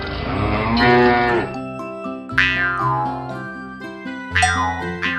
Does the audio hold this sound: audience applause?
no